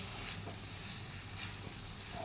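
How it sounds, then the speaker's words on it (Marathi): Potato vada stuffing coated in masala is sautéed in a pan with a faint, steady sizzle and light stirring, heard quietly with no talking. "हे स्टफिंग आपण छानपैकी असे परतून घेऊया हा मसाला"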